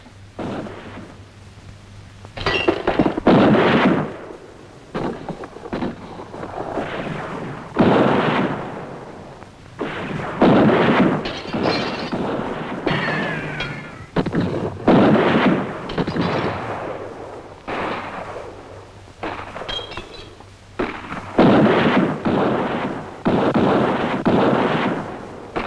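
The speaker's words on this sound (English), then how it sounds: "One of us will stay behind and give covering fire." Repeated gunshots and volleys of covering fire in a street siege film scene, loud cracks and booms coming in bursts throughout with brief gaps, no clear talking.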